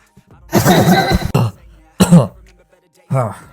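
A voice clears its throat in a few rough, forceful bursts, loud and close, with short pauses between them.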